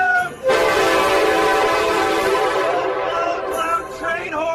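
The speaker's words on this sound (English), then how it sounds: "Loud train horn!" A Metra commuter train horn in Chicago blasts loud and close, a sustained harmonic chord holding for several seconds before briefly breaking and sounding again over rolling rail noise.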